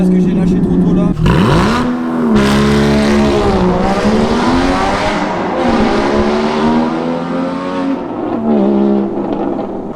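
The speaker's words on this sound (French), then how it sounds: "Est-ce que t'as entendu la résonance sous le tunnel? Oh, cette ligne Fab Speed, c'est stupide, c'est incroyable." A Porsche 981 Cayman GT4 fitted with a Fab Speed exhaust pulls hard through a tunnel, its engine note climbing repeatedly through gear changes with loud, resonant echo, close and continuous, while people talk over it.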